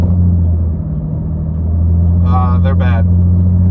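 A car on the road, heard from inside as a steady low engine and road rumble that runs throughout, while a person says a few words near the end.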